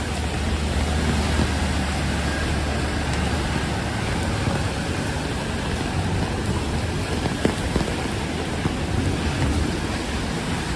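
Heavy rain pours on a humid night in New York City, a loud, dense, continuous hiss with patter on surfaces and low city rumble beneath, steady for the whole stretch with no talking.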